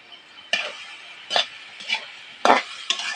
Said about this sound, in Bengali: একটু নাড়িয়ে ছাড়িয়ে নেব